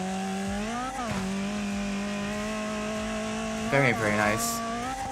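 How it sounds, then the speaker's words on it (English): The Gorby car's high-revving inline four-cylinder engine screams through rising and falling gear changes in the racing game Wreckfest, loud and close, with a short spoken comment over it. "The little high revving inline 4-cylinder engine."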